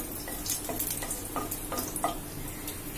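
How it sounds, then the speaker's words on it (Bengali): Nigella seeds and two dried red chillies tempering in hot mustard oil, a steady close crackle and sizzle with a few light clicks, no voices. "20-25 সেকেন্ড ফোড়নটাকে একটু ভেজে নেব।"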